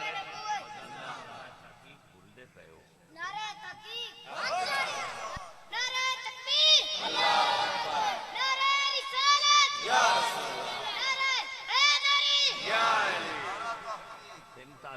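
A large crowd chants political slogans in unison at a rally in Pakistan, loud rhythmic bursts of many voices rising and falling in call-and-response waves, close and energetic.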